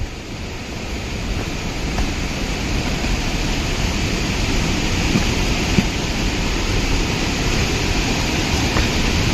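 Steady broadband rushing water, a loud constant roar close by, beside a bike route from Haldia to Keonjhar, with a wind-like hiss throughout and no voices.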